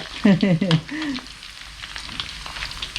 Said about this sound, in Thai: น้ำจากที่เราปิดฝามันหยอดลงนะครับแล้วมันก็เลยแตกตุ๊บตุ๊บตุ๊บตุ๊บตุ๊บตุ๊บ